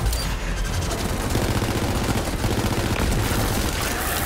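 Rapid automatic gunfire in the video game Borderlands 3, a dense, loud stream of shots sustained throughout with booming impacts mixed in.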